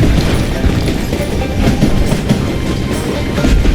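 Train with log-laden flatcars rolling along the tracks in the video game Call of Juarez Gunslinger, a loud continuous rumble with rhythmic clickety-clack of wheels over rail joints, heard alone.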